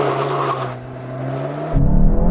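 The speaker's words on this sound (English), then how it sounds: "Left foot on the brake, floor the throttle." A VW Golf GTI launches at full throttle from a standstill, its engine note rising under load and then jumping to a louder, harsher roar as it pulls away.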